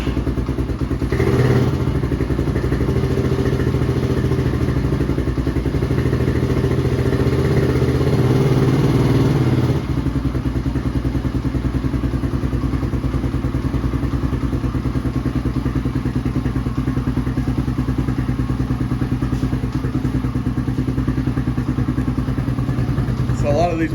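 A Tao Tao TBR7 dual sport motorcycle engine runs steadily and loudly with a loud exhaust, a continuous close-up drone for the full length, with a thump and slight change in tone about halfway through.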